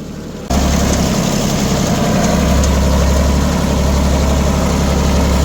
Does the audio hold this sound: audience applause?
no